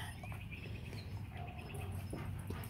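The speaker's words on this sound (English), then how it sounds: "What's that dog barking at?" A Malamute yips and barks faintly in the distance over a steady low background hum, with birds chirping now and then.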